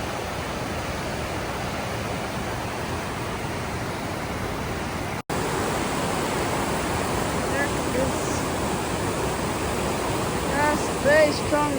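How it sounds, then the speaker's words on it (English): A strong waterfall at Morton Waterfalls in Campbell River, BC, roars in a loud, dense, steady rush that fills the whole stretch, with a brief cut near the middle. "Very strong waterfall going."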